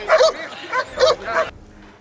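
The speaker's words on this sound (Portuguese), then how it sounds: "um dos cachorros, o pastor alemão, atacou o deputado" German shepherd police dog barking loudly and close, four or five harsh barks in quick succession before it stops.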